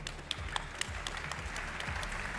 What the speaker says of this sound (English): we can give them another big round of applause, our champions and the winners of the 70th Macau Grand Prix